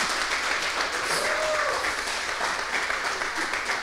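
Audience applause at a machine learning specialization demo day, steady dense clapping throughout with a murmur of voices underneath.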